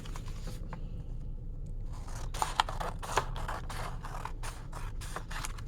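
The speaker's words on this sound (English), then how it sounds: "Now I can cut this in half." Scissors snipping through a paper craft circle for a bug project, a run of short crisp cuts building in the second half, close and fairly quiet with no talk.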